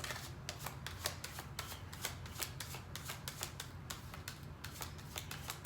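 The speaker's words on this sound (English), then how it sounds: "I shuffled the cards already, but I'm gonna shuffle them again right here" Tarot cards riffled and shuffled over and over in a steady crackling patter of quick flicks, close and continuous with no talking.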